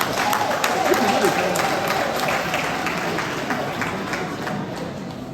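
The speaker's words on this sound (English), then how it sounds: "Let's once again applaud the sweet voices of democracy." Sustained applause fills a parliamentary gathering at a museum commissioning ceremony, with steady dense clapping from a large audience that swells slightly near the start and continues throughout.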